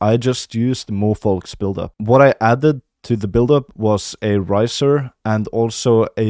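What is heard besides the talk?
None of the usual background noises is heard.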